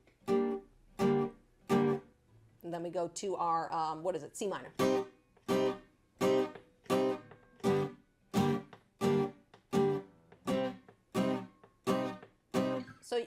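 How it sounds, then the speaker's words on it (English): Muted reggae up-strums on electric guitar barre chords, a steady chop of short, clipped off-beat stabs with near-silence between, briefly interrupted by a sustained chord, with a few spoken words partway through. "So what I'm doing is I'm strumming up on the chord, and then I'm releasing the pressure on the chord to immediately mute the string."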